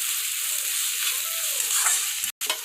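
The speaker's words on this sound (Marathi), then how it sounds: "आता यात कोबी टाकून घ्या आता कोबी व्यवस्थित मिक्स करून घ्या" Cabbage stir-fried in oil for schezwan fried rice made from leftover rice, a steady bright sizzle running throughout with a faint stirring sweep and a brief dropout near the end, no voices.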